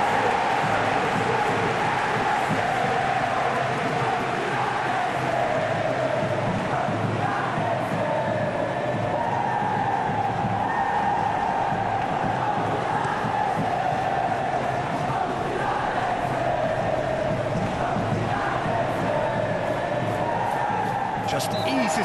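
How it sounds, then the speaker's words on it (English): Stadium crowd in a PES football video game at the Club World Cup final, Manchester City against Fluminense, a steady broad roar and cheer running the whole time beneath a commentator's continuous voice. "at least the crowd are appreciative of his efforts"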